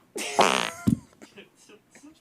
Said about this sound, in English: Yeah, just start farting now.